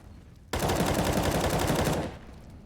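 Sustained automatic rifle fire sprays in one continuous burst of about a second and a half in a Counter-Strike match, loud and close with no talk over it.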